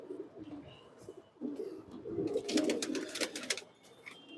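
Pigeons cooing in a loft with throaty, rolling calls that build to a busier, louder stretch in the middle, joined by a few faint chirps and rustles.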